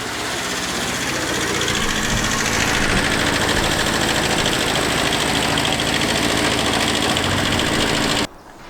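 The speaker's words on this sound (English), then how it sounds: "just about to get on the tractor and make a little bit of noise in the background" A tractor engine runs steadily and loudly throughout, a rough continuous rumble that cuts off abruptly near the end.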